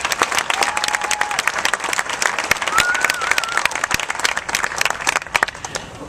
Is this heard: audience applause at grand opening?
yes